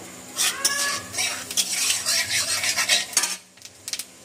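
Cumin seeds tempering in hot oil in a pan, with metallic clinks and scraping of a utensil against cookware over a light sizzle, in short bursts that stop near the end.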